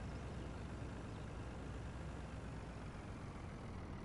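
A truck engine rumbles steadily while parking in Farming Simulator 19, a continuous low drone that is faint and even throughout with no talk.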